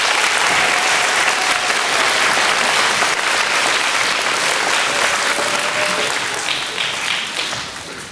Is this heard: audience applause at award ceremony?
yes